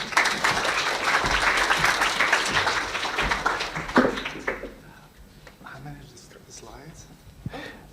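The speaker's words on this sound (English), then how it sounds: "So, round of applause for our next speakers." An audience at a business talk applauds for several seconds, dense sustained clapping filling the room, then tapering off to scattered claps as a speaker begins talking.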